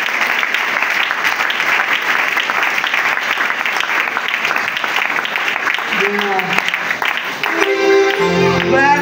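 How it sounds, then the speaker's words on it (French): A congregation applauding during a church worship service, sustained loud clapping from many hands throughout, with voices and music rising near the end. "Nous acclamons pour Jésus Christ"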